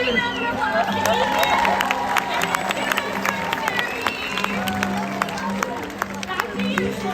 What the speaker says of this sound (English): Everybody give a big round of applause to Ethan.